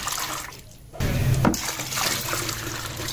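Water poured into liquid fertilizer for chrysanthemum plants, a splashing, gurgling fill that starts abruptly after a short quiet gap and runs on steadily, close by.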